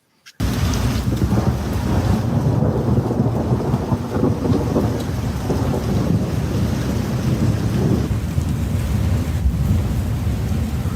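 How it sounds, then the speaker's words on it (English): Heavy rain pours steadily while deep thunder rumbles and rolls through, a loud, continuous storm with wind buffeting the microphone. "It's raining. It's thundering. You can hear it."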